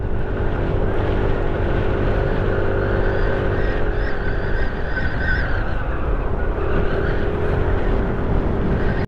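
A motorcycle climbs a steep hill on the national road between Sukabumi and Bandung, its engine droning loud and steady throughout, with wind rush over it.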